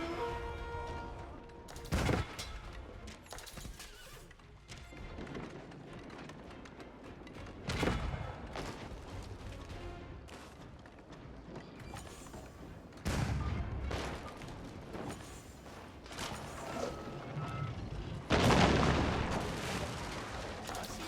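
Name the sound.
cannons firing in the video game Age of Empires 4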